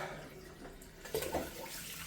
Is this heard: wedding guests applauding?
no